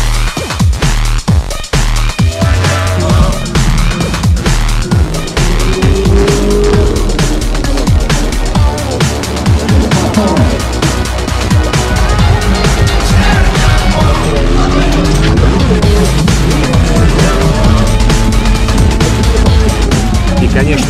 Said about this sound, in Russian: Следом шли шоу заезды джиперов и мотоциклистов.